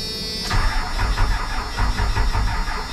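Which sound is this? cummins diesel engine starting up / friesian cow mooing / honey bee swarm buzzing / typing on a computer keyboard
cummins diesel engine starting up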